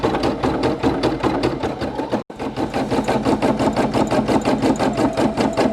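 A Brother PE800 embroidery machine stitches a satin-stitch patch with a fast, steady mechanical chatter, close and constant. A brief dropout falls near the middle, then the rhythmic whirring resumes.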